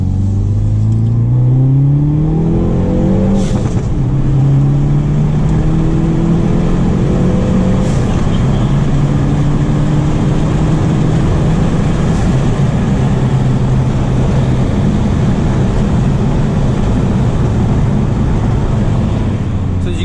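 A tuned Hyundai Veloster N accelerating hard at wide open throttle in second gear, a loud, continuous engine roar climbing steadily in pitch with shifting drone inside the cabin for about twenty seconds.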